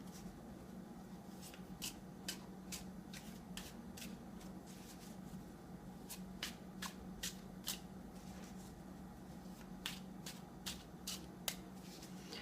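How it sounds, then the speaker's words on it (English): A deck of tarot cards is riffled and shuffled repeatedly at close range, with crisp rhythmic bursts of flicking card edges over a quiet room. "I've been shuffling the cards prior, and I'm going to continue to shuffle them until I feel that they are ready for a cut."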